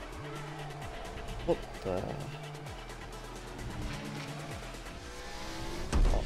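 Race cars in a Fortnite live event skid and rev with engine drones and screeching tire sounds, mixed with game music and excited talk throughout.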